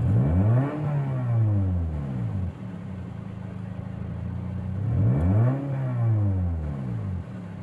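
A 2009 Toyota Vios with an open pipe exhaust is revved twice, each rev a loud swelling engine whine that climbs and falls back, with a rough idle between them.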